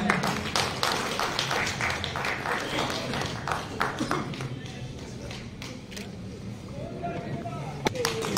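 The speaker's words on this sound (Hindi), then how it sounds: "जोरदार तालियां हो जाए" Audience clapping at a Maharana Pratap birth anniversary event, a dense patter of many hands through the first half that thins out into scattered claps toward the end.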